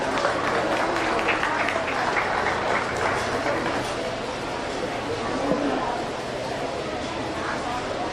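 An audience at a county fair meat goat show gives sustained applause, a dense, even clapping from a crowd that carries on steadily throughout.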